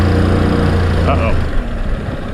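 Popular Korean delivery motorbike engine labouring as it climbs a hill, a steady close low drone with a slight change near the end, someone talking over it.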